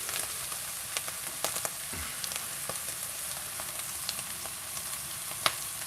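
Butter and bacon fry with mushrooms in a pan, giving a continuous bright sizzling hiss with scattered small pops and crackles and occasional faint stirring sounds, close and moderately loud.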